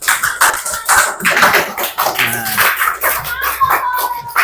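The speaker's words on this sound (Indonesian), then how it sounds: "tepuk tangan untuk kita semua dulu" A group claps together in a burst of applause, dense close hand claps with a few voices mixed in.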